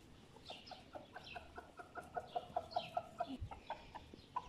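Backyard chickens cluck in a rapid, rhythmic series of short calls as they hurry toward dry bread tossed into a garden, the clucking growing louder and denser with a brief low thump near the end.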